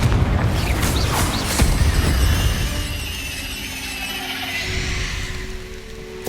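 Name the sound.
Confringo fire spell blast from the video game Hogwarts Legacy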